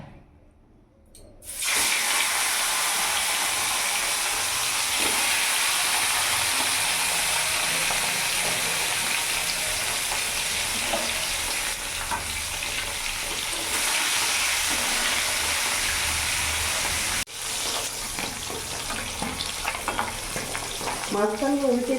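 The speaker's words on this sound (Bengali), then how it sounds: "তেলটা আমার গরম হয়ে গেছে, এবার আমি মাছটা ছেড়ে দেবো" Tilapia fish fries in hot mustard oil in a wok, starting with a sudden loud sizzle as the fish goes in, then a steady close crackling hiss that carries on for a long stretch, briefly dipping near the end.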